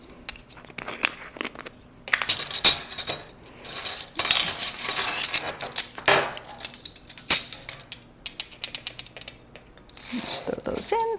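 Fennel seeds tumble into a pot for roasted tomato soup, a scatter of small dry ticks and patters in irregular bursts, close and moderately loud, with some rustling between pours.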